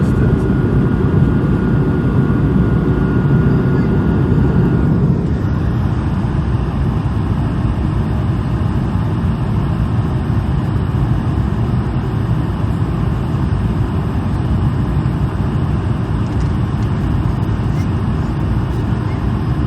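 Swiss Airbus A220-100 climbing out of Geneva after takeoff with flaps retracted, a steady loud broadband engine roar heard from inside the cabin, with a slight shift in tone partway through and no talk.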